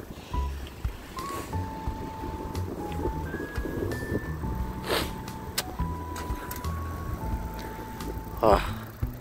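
A car passes along a dark, unlit road in a quiet residential area of South Korea on a cold night, a steady vehicle rumble with faint tonal hums, and people talk over it.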